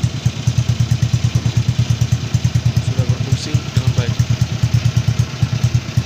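A restored Honda Supra X125 motorcycle idling close by with a steady, rapid, even putter and slight mechanical clatter, loud and constant throughout, while someone talks over it.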